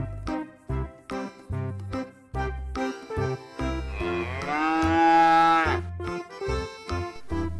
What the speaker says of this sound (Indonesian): Ibu sapi grandong. Sapi yang sangat besar,